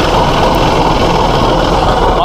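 A Vector 410 combine harvester engine idles with a loud, steady rumble that carries through the whole stretch without a break.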